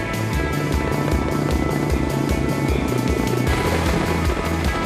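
A Russian-made heavy helicopter slowly descends toward a reservoir to draw water during a wildfire-fighting drill, its rotor thumping in a fast, steady pulse under a loud, continuous turbine roar close by.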